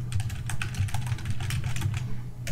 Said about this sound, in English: So I type something in,